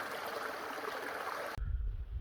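A nearby stream by a campsite on the Pacific Crest Trail, flowing with a steady, even rush of water that cuts out sharply after about a second and a half, leaving a low rumbling wind-like noise.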